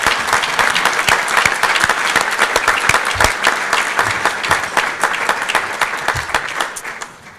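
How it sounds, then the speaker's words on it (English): Sustained applause from a luncheon audience honoring veterans, steady dense clapping for several seconds that tapers off near the end, with no talking. "I'd just like another round of applause for all the veterans and those who are serving here today."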